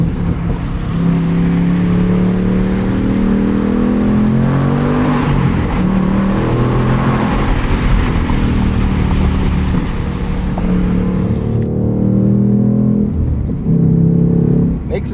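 A 2024 Ford Mustang Dark Horse, a 500 hp car with a six-speed manual, pulls hard with a loud and steady engine and exhaust note under acceleration. It climbs through a rev range, then eases near the end, with a voice talking over it.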